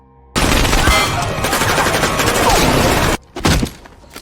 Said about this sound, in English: Gunfights are inevitable.